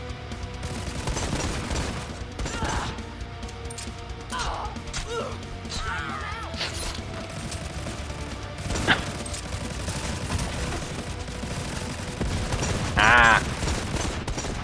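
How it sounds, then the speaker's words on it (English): Gunfire in the first-person shooter Necromunda: Hired Gun comes as repeated bursts and single shots in a busy, noisy fight, and a man calls out once. "I'm firing at them with 0 bullets apparently there"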